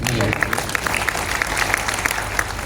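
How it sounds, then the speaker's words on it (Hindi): An audience at a Hindi poetry recital by poet Surendra Sharma in Chittorgarh breaks into steady applause, continuous crowd clapping with a few sharper claps standing out above the rest. "दूसरे पर ज्यादा तालियां"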